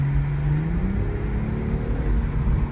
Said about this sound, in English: makes a nice little cacophonous melody from the B58